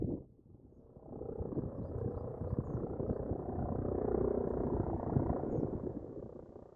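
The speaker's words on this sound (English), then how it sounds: "Something about the sound and the sight of the rescue helicopter when you're on the hill, it just sends shivers down your spine" A rescue helicopter passes over the Cairngorm mountains as a distant, low rumbling drone that swells gradually and holds steady, heard alone in the open hills.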